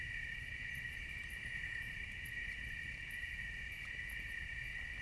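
A country night full of crickets trilling in an unbroken, even chorus, close and steady throughout, with a soft low rumble beneath and nobody speaking.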